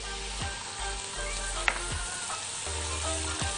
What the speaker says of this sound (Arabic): حطيت زيت وبعد كده زبدة، بعد كده شوحت فيهم البصل مع المشروم مع رشة جوزة الطيب والحبهان